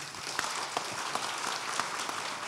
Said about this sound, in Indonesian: Mari kita kasih tepuk tangan.